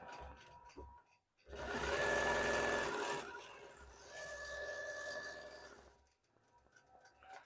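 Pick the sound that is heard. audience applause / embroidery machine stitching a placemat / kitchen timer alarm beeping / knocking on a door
embroidery machine stitching a placemat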